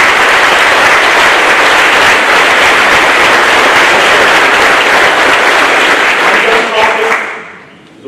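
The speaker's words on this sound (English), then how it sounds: "Please, a round of applause." An audience at a Navy master chiefs' change ceremony on a Marine base applauds under a roof, dense and loud sustained clapping that runs several seconds before fading away at the close.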